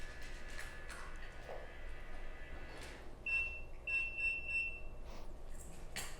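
Automatic cat feeder gives a few faint, high electronic beeps in a row, short chirps over quiet indoor room noise with soft background rustling.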